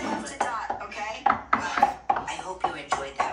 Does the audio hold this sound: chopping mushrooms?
yes